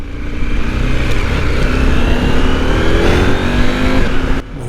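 KTM 890 Adventure R motorcycle engine revving hard nearby, a sustained rising and falling drone that cuts off abruptly near the end.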